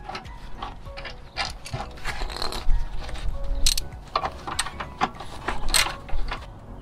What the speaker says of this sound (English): now we can screw the second rusty bolt in place